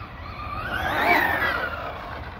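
HPI Maverick Quantum R RC truck driving across a damp parking lot, its electric motor whining up and then easing off in one rising-and-falling pass, fairly close with a rushing wind-like backdrop.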